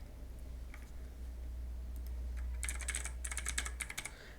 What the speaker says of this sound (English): Now just type here your current password and here type new password.